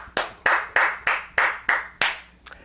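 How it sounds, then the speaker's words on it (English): Hand claps ring out at a banquet, about seven sharp, evenly spaced claps in a steady rhythm, loud and close, each with a short echoing tail before trailing off. "Let's give them a round of applause now"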